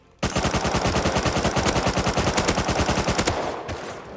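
Rapid automatic gunfire in the video game Rust, a steady loud burst of evenly spaced shots running for about three seconds before cutting off.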